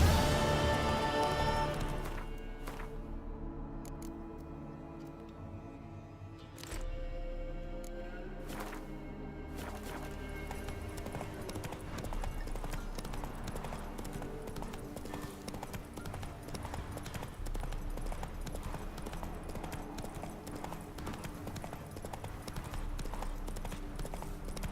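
Galloping horse hooves in The Witcher video game, a steady rapid clip-clop rhythm running throughout, close and fairly loud over a continuous music and ambient bed.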